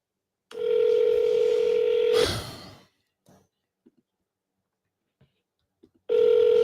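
A telephone call tone on an outgoing call to a regular phone: a steady loud ring tone for about two seconds, then a soft breathy sigh and scattered small clicks in near silence, before the tone returns.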